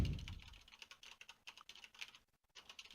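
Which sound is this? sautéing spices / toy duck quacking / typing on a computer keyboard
typing on a computer keyboard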